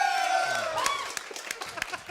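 A studio audience at a live Auckland TV show greets the guest with a burst of cheering, whoops and scattered claps, starting loud and thinning into sparser, sharp claps.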